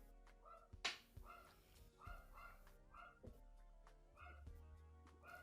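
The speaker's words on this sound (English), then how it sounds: "somebody stop that dog from barking" A small dog barks in sharp, yappy bursts, repeating at irregular intervals, fairly close, with a faint voice in the background.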